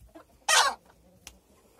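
A single loud, short hen cluck stands out, followed by a faint second squawk over quiet background.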